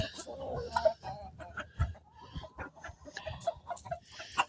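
Backyard chickens, roosters among them, cluck in a run of short, close, uneven calls with scattered louder squawks, moderately loud and busy throughout.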